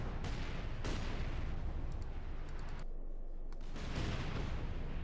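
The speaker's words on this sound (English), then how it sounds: "Barrage on the core point?" An artillery barrage in Company of Heroes 2 pounds a capture point with dense, continuous rumbling blasts and crackling impacts, overlapping into a loud, roaring wall of explosions with a few sharper hits.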